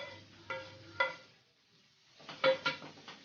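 Onions sautéing in a pan for bombil (Bombay duck) chutney: soft sizzling with a few distinct clinks and scrapes of a spoon stirring against the pan, separated by a brief quiet pause.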